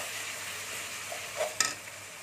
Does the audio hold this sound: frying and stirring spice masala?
yes